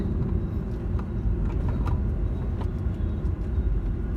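A 2012 Honda City i-VTEC manual sedan's engine drones steadily from inside the cabin, a loud, continuous low rumble that holds fairly even rather than climbing sharply.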